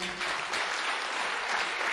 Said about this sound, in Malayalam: ആണെങ്കിൽ ഒരു കയ്യടി കൊടുത്തേ നമ്മുടെ ടീച്ചർമാർക്ക്